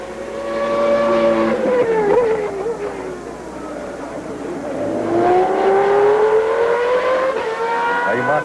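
Mark Blundell's Formula 1 car in 1993 French Grand Prix practice screams past with a high-revving engine whose pitch sweeps through gear changes, fading and then rising again as it accelerates, loud and close.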